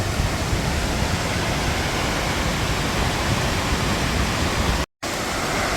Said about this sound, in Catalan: Aquesta potentíssima i brutal cascada.